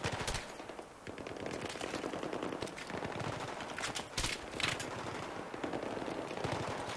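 Rapid machine gun fire in Battlefield 3, loud sustained bursts with sharper single shots cracking through a dense battlefield din, no talking.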